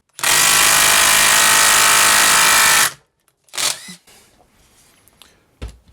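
A Bosch GDR 18 V-160 cordless impact driver hammers a screw into wood with a loud, continuous rattling burst lasting about three seconds, then stops; a few short, fainter knocks and handling sounds follow.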